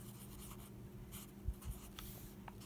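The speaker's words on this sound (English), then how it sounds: "Can you see me writing?" A pen writing on a journal page, soft close scratching strokes with a couple of small taps, quiet against a faint room hum.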